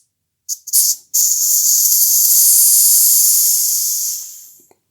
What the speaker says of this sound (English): you want to just slowly deflate the fork